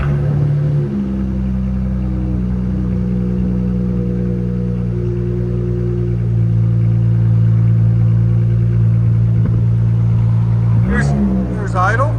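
Chrysler 300 V6 fitted with a BIGBOZ mid muffler, rear delete and 3.5-inch tips, rumbling steadily at close range and swelling into a brief rev near the end, with voices at the edges.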